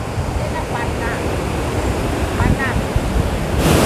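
Rushing water at the Tad Lee Phi waterfall makes a loud, steady roar like heavy surf, continuous throughout, with faint voices under it.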